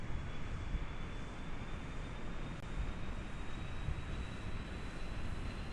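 An aircraft taxiing in the video game Kerbal Space Program gives a steady, even engine drone with a thin constant whine over it, unbroken and without speech.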